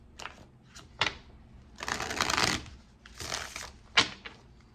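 Tarot cards being shuffled in quick bursts of papery riffling and slapping, close and fairly quiet, with short pauses between the shuffles and no voice over them.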